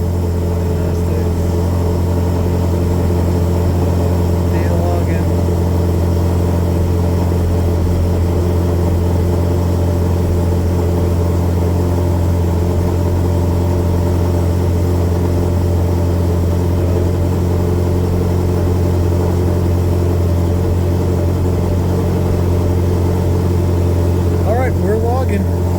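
A car engine fitted with a ghost cam idles steadily for the whole stretch, a constant low rumble with a slightly uneven, choppy lope, and someone talks over it now and then.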